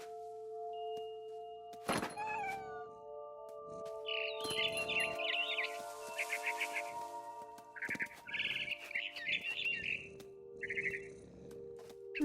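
Barn swallow chirps and tweets in the video game What Remains of Edith Finch come in short bursts against a tonal musical backdrop, with a few sharp thumps and brief vocal-like sounds.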